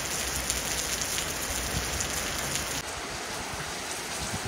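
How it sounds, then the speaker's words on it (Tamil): Rain falls in Kerala, a dense, continuous patter on surfaces that stays steady and fairly loud throughout with no voices. "மழை வருது."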